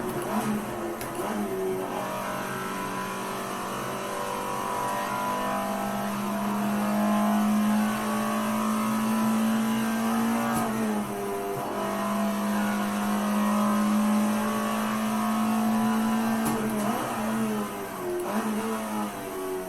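Alfa Romeo 33 Stradale racing car in Assetto Corsa at the Nordschleife, its engine howling steadily and rising and falling in pitch through gear changes and throttle lifts, loud and continuous throughout.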